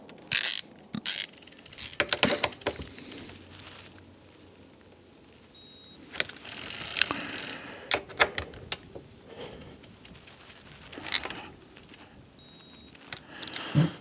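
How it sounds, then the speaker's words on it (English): Bolts on a Shimano 105 R7000 groupset on a Trek Domane bicycle being tightened with a ratchet: quiet, irregular bursts of clicking and metallic ticking with short pauses and occasional sharper clunks, close-up. "I might as well torque up these other bolts"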